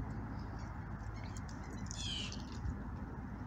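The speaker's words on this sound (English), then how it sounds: "Blue jays are over there and other birds." Blue jays and other birds call outdoors, a harsh squawking burst standing out briefly over steady background noise, with smaller scattered calls around it.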